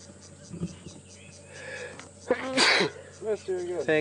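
A person sneezes sharply on an early-morning safari drive at Djuma and Arathusa, one loud burst standing out near the middle, with scattered speech before and after it.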